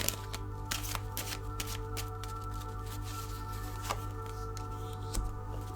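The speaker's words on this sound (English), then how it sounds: "just getting some cards here" Tarot cards being shuffled by hand at close range, a steady run of crisp riffling flicks and slaps that continues throughout over a low steady hum, with no one talking.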